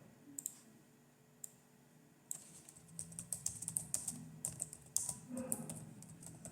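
Laptop keyboard typing, close and fairly quiet: a few isolated key clicks at first, then a dense, irregular run of tapping that continues to the end, with no talk over it.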